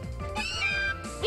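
A cat-like Pokémon in Pokémon Sun gives a short, rising meowing cry of two quick tonal bursts, set against chiptune-style game music.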